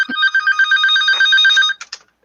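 Landline telephone ringing loud and close indoors, a rapid electronic trill that stops after about two seconds with a couple of short broken bursts.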